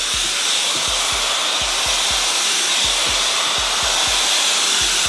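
Revlon brush dryer blowing on a higher heat setting during a blowout of thick natural hair, a loud, steady, close airy roar with a faint rhythmic low thumping underneath.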